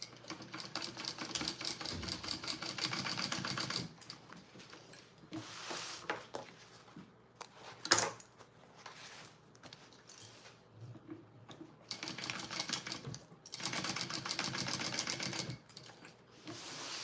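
A sewing machine basting a handle strap onto a bag, running in bursts of dense rapid stitching with quieter pauses and a sharp clack in between.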